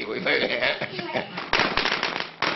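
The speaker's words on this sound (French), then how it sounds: "on dépense 30 euros par famille pour ces pétards du Nouvel An, interdits à Pékin mais autorisés à la campagne" Chinese New Year firecrackers go off in the Chinese countryside as rapid strings of sharp crackling bangs, loud and dense, with a fresh burst partway through, while a voice speaks over them.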